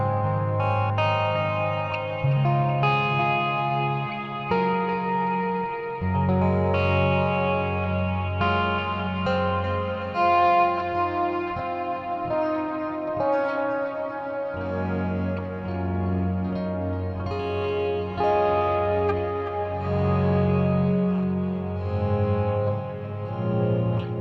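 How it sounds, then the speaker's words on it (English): Clean electric guitar playing a slow ambient passage, two delay tracks feeding a parallel reverb bus, sustained chords and notes blooming into long washy echoes, steady and full throughout with no voice. "I'll have 2 tracks going where I'll be having delays on each separate track"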